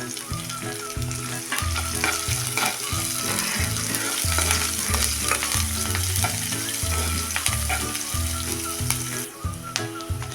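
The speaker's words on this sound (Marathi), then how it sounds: "कांदा पण थोडासा गुलाबी रंगावर परतून घ्यायचा आहे" Chopped onion sautés in hot oil with curry leaves in a home kitchen pan, a loud, continuous close-up sizzle and crackle with steady stirring, and no talking.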